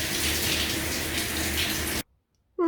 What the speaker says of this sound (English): So I was up bright and early on Saturday morning and in the shower by 6 AM.